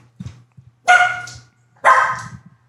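A dog gives two loud, close barks about a second apart, with soft shuffling sounds before them.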